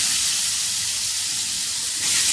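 Pointed gourd (potol) coated in salt and turmeric frying in hot oil, giving a steady, loud, broadband sizzle and hiss that continues unbroken with no talking.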